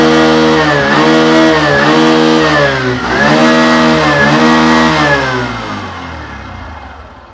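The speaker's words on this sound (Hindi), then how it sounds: "थ्रॉटल देता हूँ" A 2024 Bajaj Platina 110 motorcycle engine revs hard and loud, its pitch rising and falling through several throttle blips before easing off toward the end.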